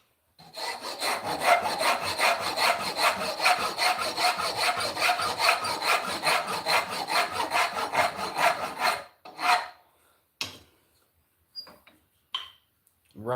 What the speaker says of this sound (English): come in and rasp that away